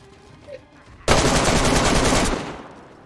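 A loud burst of automatic gunfire in DayZ, a rapid rattling volley lasting about a second and a half after a quiet start, with a brief faint voice beforehand.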